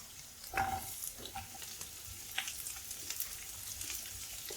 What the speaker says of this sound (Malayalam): അരിഞ്ഞു വെച്ചിരിക്കുന്ന ഇഞ്ചി, വെളുത്തുള്ളി ഇട്ട് നന്നായിട്ടൊന്ന് വഴറ്റാം.